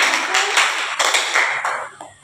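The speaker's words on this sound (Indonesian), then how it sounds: "Berikan tepuk tangan." A class of students claps together after a group presentation in a school lesson, a dense, steady burst of close, loud hand claps lasting a couple of seconds.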